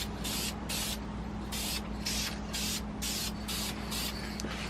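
Aerosol spray paint going onto Ford Mustang Track Pack Brembo brake calipers for the first coat, heard as regular close bursts of hissing, about seven short sprays in a row over a low steady hum.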